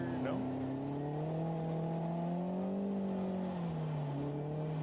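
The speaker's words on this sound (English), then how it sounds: "Another car going to go by here." An off-road race car in the Vegas to Reno desert race passes at a distance, its engine note rising and then falling as it goes by, heard faintly beneath people talking.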